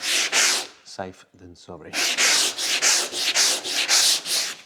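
A sanding block is rubbed by hand over primer on a VW T25 van panel, making a loud, close, rhythmic back-and-forth rasp, stroke after stroke, briefly broken by a few spoken words.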